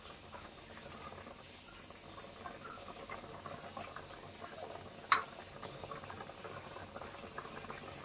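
Eggs simmering in a kencur spice sauce in a pan, a faint steady bubbling and hiss with one brief clink partway through and no voices.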